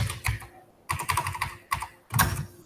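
Typing on a computer keyboard in short bursts of quick, close clicks separated by brief pauses, with no talking.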